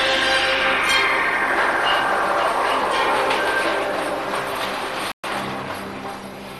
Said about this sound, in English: this is London's Post Office Underground Railway, and it's unique.